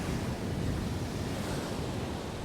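Sea waves break steadily on the shore at Holland-on-Sea on the UK coast, a loud continuous wash of surf mixed with wind buffeting the microphone, no talking.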